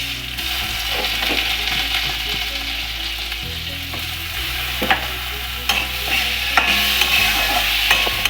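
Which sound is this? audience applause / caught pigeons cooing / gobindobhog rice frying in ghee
gobindobhog rice frying in ghee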